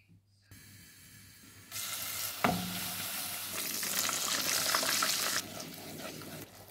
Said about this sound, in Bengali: তো এখানে পেঁয়াজটা কষাইয়া নিচ্ছি